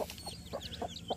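A country chicken gives a run of soft, rhythmic clucks, around five evenly spaced calls close by, with light chirpy peeps mixed in over a low background hum.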